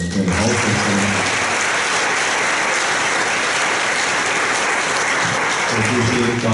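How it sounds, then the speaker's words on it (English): An audience at an Atlas of Emotions talk with Paul and Eve Ekman claps loudly and steadily, a dense wash of applause that barely changes across its length. "To the audience who joined us, you deserve applause as well."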